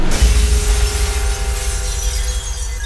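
Shattering sound effect, a loud glass-like burst at the start trailing into a long ringing, rumbling decay.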